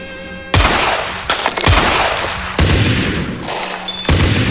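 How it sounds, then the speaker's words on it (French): Repeated loud bursts of gunfire, several rapid volleys in a row, close and harsh, with no talking. "Il y a des échanges de coups de feu."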